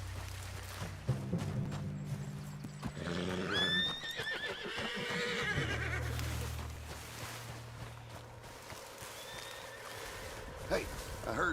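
A spooked horse in the video game Red Dead Redemption 2 neighs and whinnies loudly in a nervous, rising cry, with hooves shuffling and a voice speaking nearby against a low background rumble.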